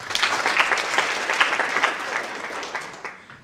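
An audience at a live-streamed event applauds, a close, lively burst of many hands clapping at full strength for a few seconds before easing off toward the end.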